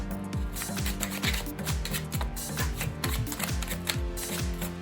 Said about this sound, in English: I'm gonna put it into the middle of the deck, and I'm just going to shuffle it